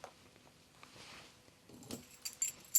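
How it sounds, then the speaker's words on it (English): A large set of keys jangles as it goes into a small handbag, with soft rustling first and then a few sharp metallic clinks that grow louder toward the end. "Large set of keys."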